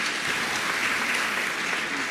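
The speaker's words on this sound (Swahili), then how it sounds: "Wapigiwe makofi wanayika." A church congregation applauding during a Covenant Renewal Sunday service, a dense continuous wash of clapping from many hands, steady and moderately loud for the whole moment with no break.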